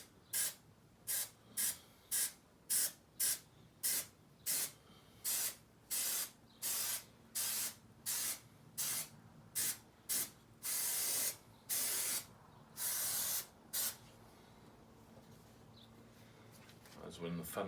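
An aerosol can sprays adhesive or paint onto the vinyl interior of a Canta LX microcar in a long run of short, hissing bursts with brief gaps between them. The bursts are close and regular, and one spray lasts longer near the end.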